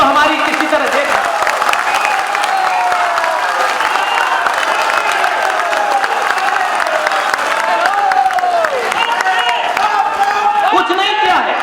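Crowd applause and cheering from an audience at a political speech in Raebareli, Uttar Pradesh, a dense, steady clatter of clapping with scattered whoops and voices, loud and continuous throughout.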